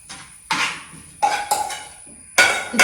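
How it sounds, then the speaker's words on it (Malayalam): A metal pan and cookware clank against a stovetop in a home kitchen, with several sharp separate knocks and rattles standing alone, no voices over them. "ഞാൻ അപ്പം തന്നെ നമുക്ക് ദോശക്കല്ല് വെച്ചിട്ട്"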